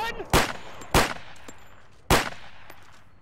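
Three sharp, loud shotgun blasts ring out in a military video game, irregularly spaced, each with a short decaying tail over a quiet background.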